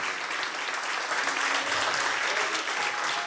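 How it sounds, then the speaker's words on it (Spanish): An audience applauds steadily and densely throughout, a continuous wash of clapping at a motivational talk with no pauses. "Dale un aplauso"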